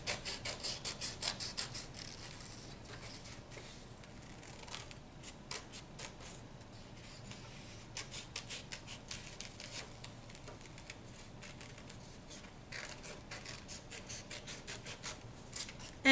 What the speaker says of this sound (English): take your scissors and you're going to cut out each of your little hands that you traced